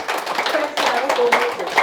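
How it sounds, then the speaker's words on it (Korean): A group claps with flat palms in a health exercise, strong repeated claps in steady bursts alongside voices talking over them. "여섯 번째, 손바닥 박수."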